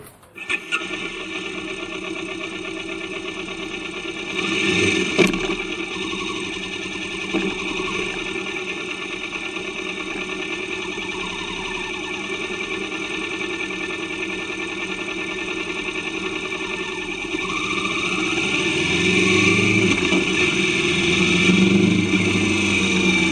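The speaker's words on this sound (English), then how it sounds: "from the off we can clearly hear the engine sounding better" A Kawasaki Vulcan S 650 motorcycle engine runs steadily throughout, a constant mechanical drone with a slight knocking texture, growing a little louder toward the end.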